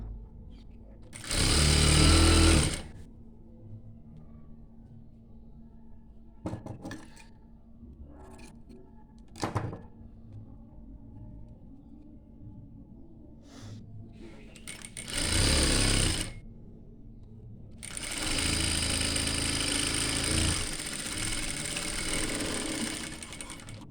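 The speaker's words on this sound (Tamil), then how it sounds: "இந்த மாதிரி தைச்சாச்சு." A sewing machine stitches an inskirt seam in three close bursts, a short run, a second short run and a longer one near the end, with quieter handling clicks in the pauses between them.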